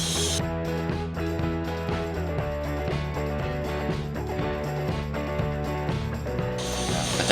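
Ratcheting clicks of an Ocean Freaks Captcha 60HG fishing reel as its handle is fitted, a steady close mechanical rattle running throughout with a faint tonal hum beneath.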